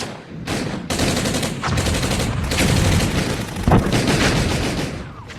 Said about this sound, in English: The sounds of gunfire and metal upon metal could be heard as the battle raged on.